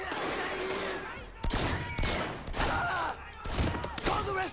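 Pistol fire in the video game Sleeping Dogs: a rapid string of sharp shots in clustered bursts, mixed with game sound effects and background voices.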